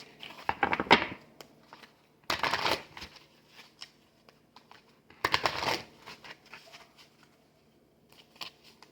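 Playing cards are shuffled in three quick riffling bursts, with softer taps and card handling in between, close and otherwise quiet.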